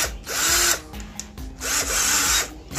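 A Makita cordless impact drill drives into thick coco lumber, a 2x4, in two loud bursts of rapid hammering whir, each lasting under a second with a brief pause between, and no talking.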